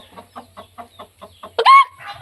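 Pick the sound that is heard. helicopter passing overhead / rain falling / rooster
rooster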